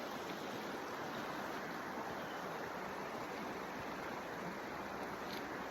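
Creek water flowing over rocks at a forest campsite, a constant, full rushing wash close by with no pauses, heard alone without voices.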